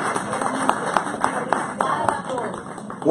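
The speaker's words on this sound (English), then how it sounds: "One more round of applause for Congresswoman Eliana Rossetti." An audience claps for a congresswoman in scattered, uneven applause, with individual hand claps standing out over a murmur of voices.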